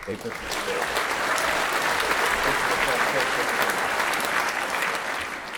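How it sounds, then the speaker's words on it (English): An audience at a civic panel event on a vision for Wellington breaks into sustained applause, a dense wash of clapping that rises quickly and holds steady at moderate level before tapering slightly at the end. "let's start with a round of applause for yourself."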